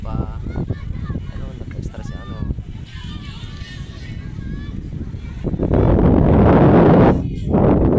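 Gusty wind on a cloudy day in Ilocos Norte buffets the microphone, building into a loud roaring rush near the end, while people talk and call out underneath.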